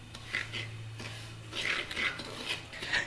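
A spoon scrapes and clinks against a wok while semolina is stirred and roasted, giving a few short metallic scrapes at an irregular rhythm, close and moderately quiet over a low steady hum.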